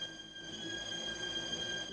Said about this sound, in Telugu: ఇప్పుడు చూడండి మన ట్రైన్ వెళ్ళిపోతుంది